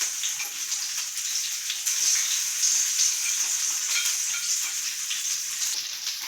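Onion and capsicum fry on a high flame in a pan with garlic, ginger, green chilli, spring onion and celery for chilli chicken, a loud continuous close sizzle with occasional stirring and no talk.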